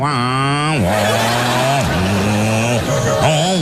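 Loud, close motorcycle engine revving through a Keniji aftermarket exhaust, pitch sweeping up and dropping several times with a raspy, buzzing tone.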